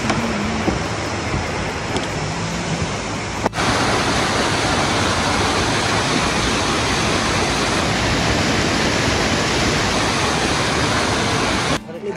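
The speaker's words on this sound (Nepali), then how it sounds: "राम्रो झरना छ त्यता।" A loud, continuous roar of falling water fills the whole clip, broad and steady like a nearby waterfall, with a brief break partway through, on the Khopra Danda trek in Nepal.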